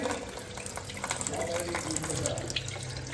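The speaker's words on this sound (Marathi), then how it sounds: "नळाला पाणी आलेलं आहे हा बघा नळाला तर मी पटापट हंडे भरून घेते" Tap water gushes steadily into metal water pots in a home kitchen at night, a continuous close splashing flow that never lets up, with a faint voice underneath.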